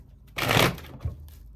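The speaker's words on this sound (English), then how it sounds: "Let me show you that I'm shuffling up these cards" Tarot cards being shuffled by hand, a soft papery riffle and rustle that builds, peaks for about half a second, then fades out with a small tap.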